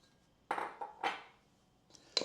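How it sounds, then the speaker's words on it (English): Cooked carrots going into cake batter in a bowl, a few quiet knocks and scrapes spaced apart, with a faint clink of utensil against the dish at the end. "We're gonna add in our cooked carrots."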